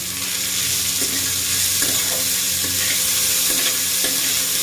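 Three finely chopped onions fry in a pan with ginger and garlic for a paneer dish. A steady loud sizzle hisses throughout, broken by a few soft stirring scrapes, heard close with no voices.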